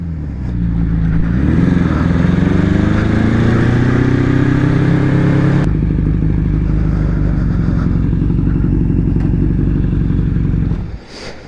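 A Honda CB750 DOHC scrambler motorcycle with dual carbs runs loud and close, its engine pitch rising as it revs, then holding a steady rumble before cutting off near the end.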